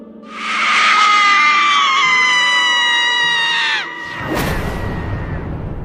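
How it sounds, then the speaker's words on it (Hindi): A long, piercing scream rings out loudly in the night outside an office, sustained and strained before cutting off, followed by a noisy burst and lingering rumble. "अचानक रात के सन्नाटे को चीरते हुए एक बहुत तेज चीख सुनाई दी"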